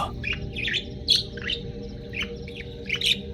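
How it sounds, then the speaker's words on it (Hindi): A myna perched in a tree cries out loudly, sharp chirps and squawks repeating every half second or so, close and clear above a low steady background hum. "पेड़ पर बैठी एक पक्षी जोर जोर से रो रही थी"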